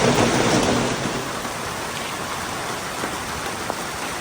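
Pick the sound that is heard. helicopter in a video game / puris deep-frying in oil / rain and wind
rain and wind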